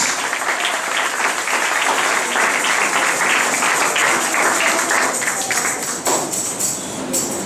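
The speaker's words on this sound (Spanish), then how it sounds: "Levante un fuerte aplauso por esa palabra esta noche" A church congregation applauds loudly during an evening sermon, steady dense clapping that thins toward the end, with a voice faintly audible beneath.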